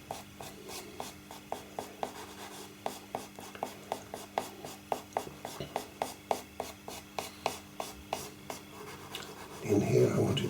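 A pencil scratches rhythmically across paper in quick, regular strokes while hair is being drawn. The rasping strokes are close and fairly quiet, and a short rustle follows at the end.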